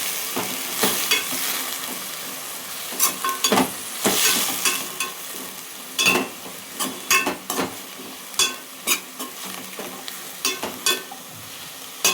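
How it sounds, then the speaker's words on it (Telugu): Chopped bottle gourd fries and sizzles in a pan for chutney, a steady crackle broken by frequent scraping stirs of a spoon against the pan. The sounds are close, with no talking. "మంచిగా ఫ్రై చేస్తుంది."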